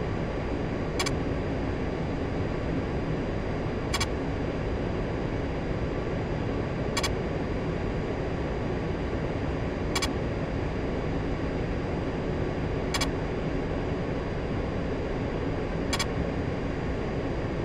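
An A-10C jet landing in the DCS flight simulator, a steady loud broadband engine and airframe roar held at even level throughout, with brief regular clicks recurring about every three seconds.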